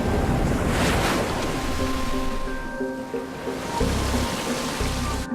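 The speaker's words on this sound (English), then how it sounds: "Coral reefs surround the island, breaking the waves into perfect pipelines" Ocean surf breaking on coral reefs around an island, a broad continuous wash of waves with wind buffeting the microphone, loud and steady with faint tonal hums beneath.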